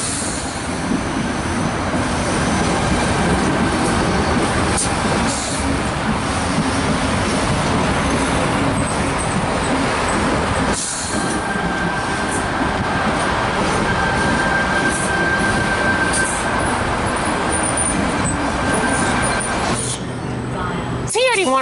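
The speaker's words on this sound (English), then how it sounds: "T81 and his friend is now departing platform number 2 for our Gordon service" Two four-car Tangara train sets, T81 and T79, pull out of platform 2 at Milsons Point on a Gordon service, a steady loud rumble of rolling stock and motors filling the scene, with voices talking over it and a brief high tone.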